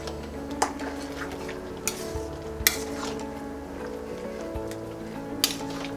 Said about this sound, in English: we'll give a good stir to this whole